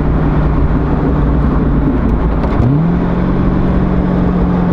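A Corvette C6 Z06 with a seven-liter V8 revs hard on frozen roads, its loud, steady engine drone climbing, dipping briefly, then settling into a sustained high-pitched roar with no talk.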